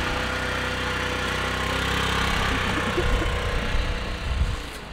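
A scooter engine idles close and loud with a steady drone, then revs up and runs rougher with throttle in the last couple of seconds, no voices heard.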